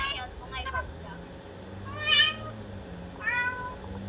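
A voice imitates a cat, giving several short, high, wavering meows spaced through a few seconds, close and moderately loud over a faint low background hum.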